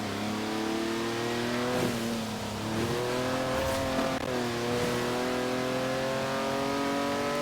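A car engine in Forza Horizon 4 on Fortune Island, droning and revving steadily through shifting gears, with brief tyre noise.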